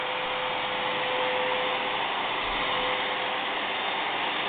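A household vacuum cleaner runs steadily close by, a constant airy whine with a thin tonal hum and no pauses.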